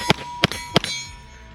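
A Smith & Wesson Response 9mm carbine fired three times in quick, evenly spaced succession, each sharp report close and loud with a metallic ringing tail that fades afterward.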